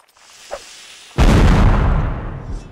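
A cannon fires in a musket-era line battle video game, one loud close boom bursting out and rolling off slowly, preceded by a small distant pop.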